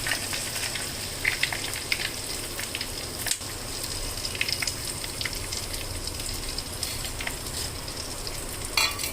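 Curry leaves crackle in hot tempering oil with mustard seeds and urad dal, a steady sizzle with scattered pops and a few sharper spits, close and alone.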